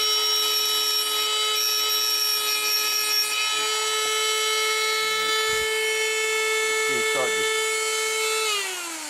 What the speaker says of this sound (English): Basically, I'll just get the Dremel going for a line.